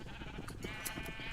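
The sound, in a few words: sheep bleating in the video game Minecraft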